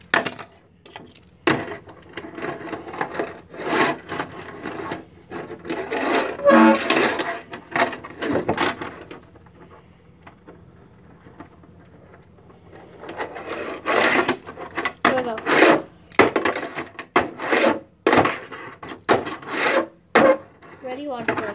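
A Tech Deck fingerboard grinds and slides on a wooden ramp in close bursts of rough rubbing and scraping, with sharp clacks from flips and landings and a quiet pause midway.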